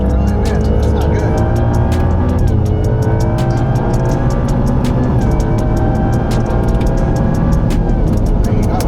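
Goosetuned Ford Raptor R truck easing off the line in a drag race on a desert air strip, engine droning loud and steady with gear-change dips, rapid ticking and rattling over it, and voices talking inside the cab.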